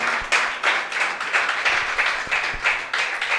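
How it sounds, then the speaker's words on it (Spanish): Congregation applauding in a church service, a dense steady patter of many hands clapping with a few sharper individual claps, moderately loud and sustained with no voices. "le damos un aplauso al Señor, amado hermano"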